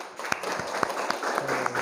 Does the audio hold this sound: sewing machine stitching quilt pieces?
no